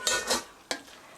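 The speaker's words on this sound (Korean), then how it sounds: "소스가 벨 수 있도록 고루 섞어주세요." Noodles stirred into bubbling curry sauce in a pot for curry jjamppong, with two close scraping swishes and a sharper clink of utensil against the pot.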